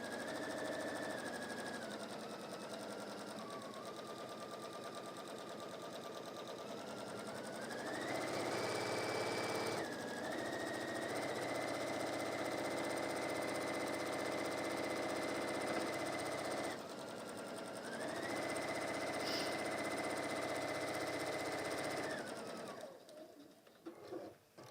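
A sewing machine stitching around a marked curve on fabric, a fast mechanical whirr in several runs, with short pauses between them and speed changes, heard close and without talk.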